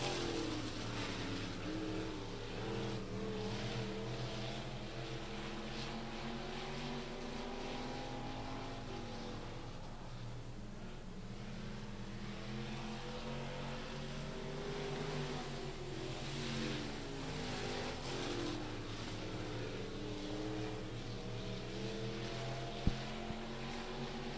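Race cars at Rocket Raceway Park in a KR Cup and Rocket Challenge event, their engines droning and surging steadily as the pack circles the track through turn four, heard at a distance for the whole stretch with no talk.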